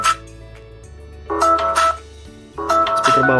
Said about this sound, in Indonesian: Nah ini speaker bawah, ini dua-duanya kencang banget.